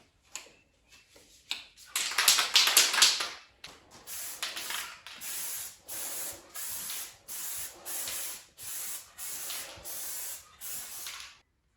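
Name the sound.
spraying undercoating from a spray can onto door panel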